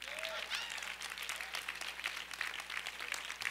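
A church congregation claps steadily, a dense wash of hand claps filling the sanctuary with faint whoops or voices rising briefly in the crowd.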